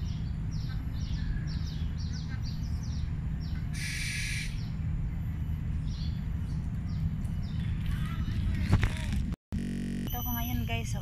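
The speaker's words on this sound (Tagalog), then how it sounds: "Ang ibon na yan." A bird calls in West Coast Park, Singapore, heard from someone lying beneath a tree, with short repeated chirps over steady outdoor ambience and a brief louder rustle near the end.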